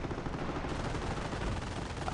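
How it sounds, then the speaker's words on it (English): Rapid artillery and gunfire from the real-time strategy game Company of Heroes form a dense, continuous barrage of overlapping blasts, loud and close, with no talking. "I'm just like artillerying their base, you know, like just doing artillery fire"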